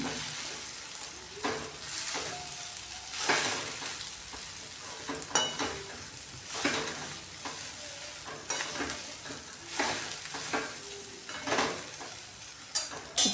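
Soaked sabudana (sago pearls) for khichdi is mixed in a vessel, with soft, repeated scraping and stirring strokes at an irregular rhythm, quiet and close, without speech.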